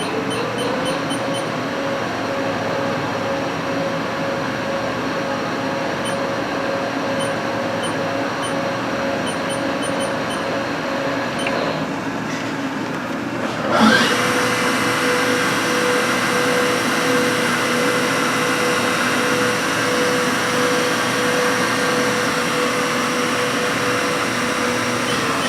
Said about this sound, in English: Right now we're running the spindle.